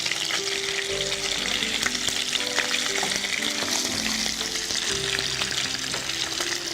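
Fish fries in hot oil with a dense, continuous sizzle and crackle that stays loud and unbroken throughout.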